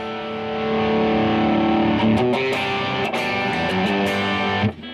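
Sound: electric guitar through pedal with gain cranked, distorted

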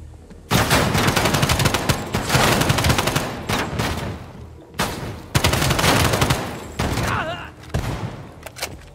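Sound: gunfire in the video game Call of Duty: Black Ops Cold War

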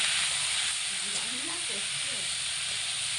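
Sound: ghetkol frying in a pan on medium heat

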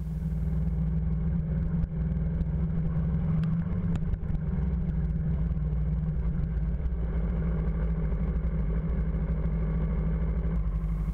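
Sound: moving motorcycle engine while skating

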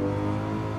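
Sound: car engine revving on throttle, Gran Turismo 7 video game

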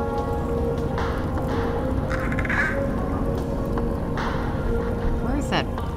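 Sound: bird cawing in the video game Portal 2

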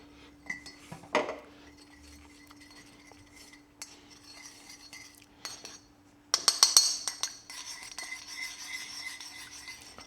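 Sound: stirring honey into a dressing

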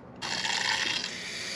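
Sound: water filling an engine coolant system

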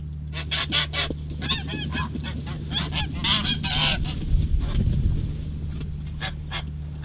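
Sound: geese honking in a field

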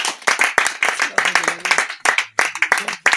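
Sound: church congregation applauding

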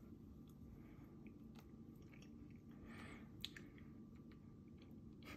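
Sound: chewing a Cavaliere fig, seeds crunching

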